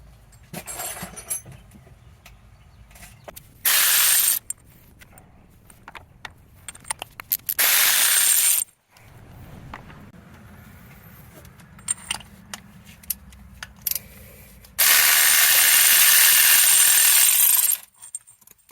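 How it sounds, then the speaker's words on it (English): A ratchet works on the spark plugs of a 1984 Mazda B2000 engine, with quick metallic clicks, tool clinks and rattles, and several longer bursts of hissing noise in between, close by with no talk. "I'm gonna pull the plugs"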